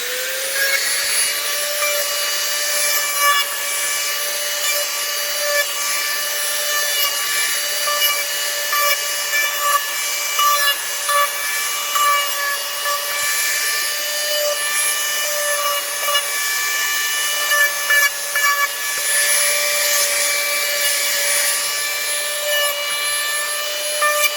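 Edges of a Kydex holster being beveled at a 45-degree angle with a power tool, giving a steady, loud, high-pitched whine with grinding that runs continuously without pause.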